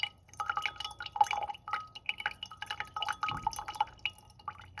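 Liquid being poured off slowly from a solid settled at the bottom of a glass container, giving soft, irregular drips and light trickling with faint glassy clinks, close and quiet, no talking.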